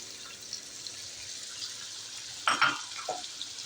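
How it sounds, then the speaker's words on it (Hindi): Yogurt goes into Bihari qeema frying in a pan: a low steady sizzle builds briefly into a louder burst of crackling and splattering as it lands, then settles back to a quieter hiss. "इसमें दही का डाल रही हूँ।"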